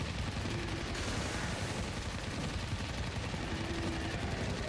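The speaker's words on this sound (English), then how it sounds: "Gatling gun!" Rapid, continuous gatling gun fire in DOOM The Dark Ages, a dense low rattle held steady throughout at a fairly quiet level.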